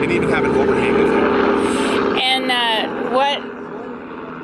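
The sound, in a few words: helicopter flying overhead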